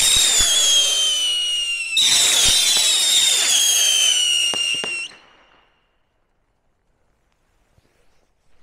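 Loud shrill whistling rocket fireworks screech together in two overlapping bursts with crackling pops, then cut off abruptly into near silence.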